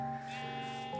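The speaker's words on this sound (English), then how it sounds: "don't know what that sheep's doing" A Minecraft sheep gives a single wavering, nasal bleat, held for about a second at a moderate level with no other sounds.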